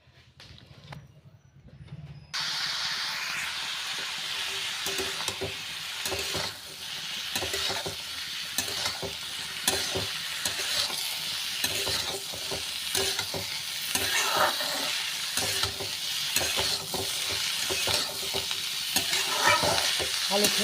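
Potatoes and onions fry in hot oil in a pan, a constant bright sizzle that starts abruptly after a brief quiet moment, broken by repeated scrapes and knocks of stirring.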